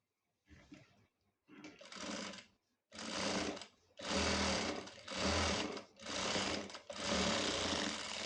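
A sewing machine stitches a boutique-style blouse in several bursts of rapid, whirring needle action, separated by short pauses and growing longer toward the end, close and fairly loud.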